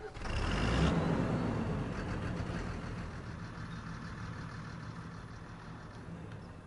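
Truck engine with trailer in Farming Simulator 25 swells into a loud rumble, then settles into a steady, slightly fading drone with a brief hiss early on.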